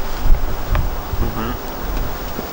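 Gusty wind at a lake rumbles against the microphone with low, uneven buffeting, moderately loud and swelling in bursts.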